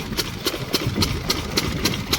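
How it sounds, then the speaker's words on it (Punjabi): A farm engine in a Punjabi field runs at night after pumping water for puddling the paddy, beating out a steady, evenly spaced chugging knock close by; it keeps running through the clip without shutting off. "ਲਓ ਜੀ ਇੰਜਣ ਹੋ ਗਿਆ ਆਪਣਾ ਬੰਦ"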